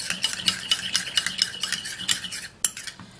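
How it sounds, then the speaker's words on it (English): A spoon rhythmically scrapes and clinks around a bowl while a homemade rice cream mixture is stirred, quick repeated strokes with a wet, slushy texture, close up and with no talking. "And then we'll mix it all up."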